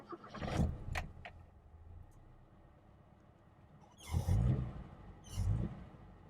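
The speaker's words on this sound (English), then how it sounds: "Now let's get this car started up so you can hear what she sounds like." A 1970s Toyota Starlet 60 series being started: a brief cranking burst at the start, then a quiet stretch with low rumble, followed by two louder, rough surges of the small engine catching and revving, heard close up.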